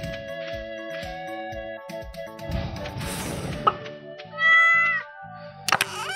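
A cat meows once, loud and close, over steady Stardew Valley farming-game music with plinking melody and pulsing bass notes.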